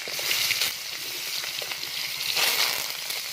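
Onions sautéing in hot oil with mustard seeds and curry leaves at an outdoor village cooking setting, a steady close sizzle with bursts of stirring and scraping.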